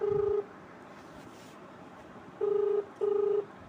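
Three short, clear touch-tone dialing beeps on a telephone, the first alone, then a pause and two more in quick succession, in a quiet room.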